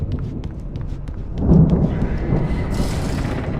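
Thunder rolls through a storm in the video game Alan Wake, a deep rumble swelling after a faint crackling start and then settling into a sustained low roar with hiss on top.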